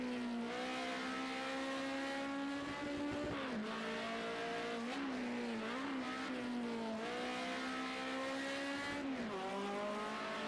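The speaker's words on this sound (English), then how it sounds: "Taking that corner completely differently to everyone else, kart number 1." A racing car with a strongly harmonic engine note holds a steady high tone, then drops and rises as it shifts and accelerates through a corner, loud and continuous without talk.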